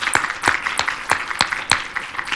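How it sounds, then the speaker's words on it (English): A short burst of hand clapping at a seminar, several sharp claps at an uneven rhythm, fairly close and moderately loud. "we'd like to give you a big round of applause"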